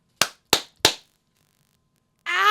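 Three sharp, evenly spaced hand claps ring out close and loud against silence, meant to mimic fireworks, followed after a pause by a voice crying out.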